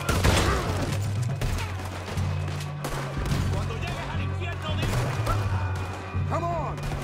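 Heavy battle gunfire on Guarma in the video game Red Dead Redemption 2: loud, overlapping shots crack in a continuous fusillade throughout, over a steady low rumble, with voices talking intermittently in the mix.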